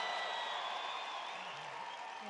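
A big political rally crowd in Wisconsin applauds and cheers in a dense, continuous roar that holds steady throughout, loud and wide with no gaps, with a faint voice surfacing near the end.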